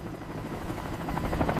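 Helicopters flying near a smoking abandoned stronghold during a military operation, a steady loud rotor throb with rhythmic chopping growing stronger before cutting off abruptly.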